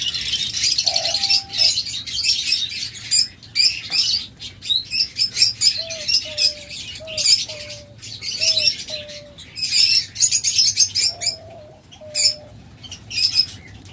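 Caged pet birds, diamond doves, lovebirds and budgerigars, fill the space with dense chirps and chatter, while a dove's soft repeated coos come in short spaced series, close and clear.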